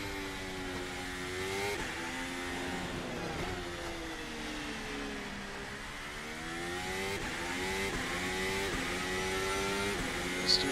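A video-game racing car engine drones and shifts pitch continuously, rising and falling as it accelerates, with a steady roar of tires fighting for grip underneath and no talking.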